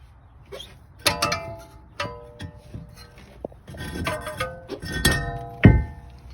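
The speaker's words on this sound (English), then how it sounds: "That's the reason why you got to pound on your rotors." A hammer pounds a seized front brake rotor on a 2018 Lincoln MKX, producing a series of sharp, close metallic clanks with ringing overtones, irregularly spaced, the last strike heaviest.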